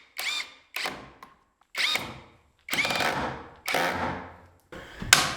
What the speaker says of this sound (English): that will hold it in position while I put these screws in